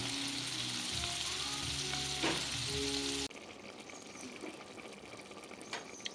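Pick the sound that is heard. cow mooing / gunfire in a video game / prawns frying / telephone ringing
prawns frying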